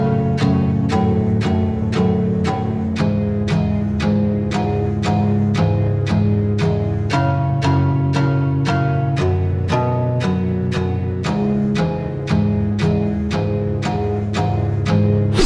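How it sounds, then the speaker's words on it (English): Guitar sample processed with distortion, EQ and a short reverb, playing a dark repeating pattern of sharply plucked notes at an even pulse, sustained tones ringing between attacks, loud and alone for about fifteen seconds. "And now the guitar sounds like this."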